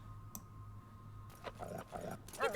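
A dog whines in the video game Life is Strange, giving a few soft, wavering whimpers in quick succession near the end, fairly quiet over a low background hum.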